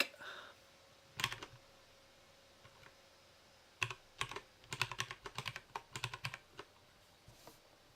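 Typing on a split Ergodox keyboard: quiet, close clusters of key clicks in irregular bursts, with pauses between them and no speech.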